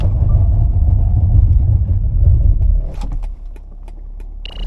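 A 2024 BMW X5 xDrive40i facelift brakes hard in a stopping test: loud low road and engine rumble for about three seconds, then quieter cabin noise as the SUV comes to rest, with faint clicks and jingles near the end.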